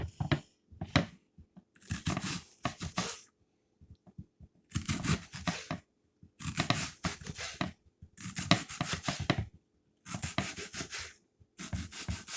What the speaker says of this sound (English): And now I'm going to cut up some onion.